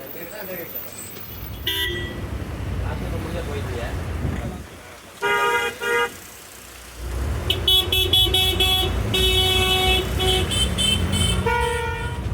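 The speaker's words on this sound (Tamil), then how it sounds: "பயங்கர டிராஃபிக்காக இருக்கும் போல் இருக்குங்க." Dense road traffic in Erode district, heard from aboard a new bus travelling from Gudalur to Salem, with engines rumbling throughout and repeated car and vehicle horns honking in bursts, loudest in the second half.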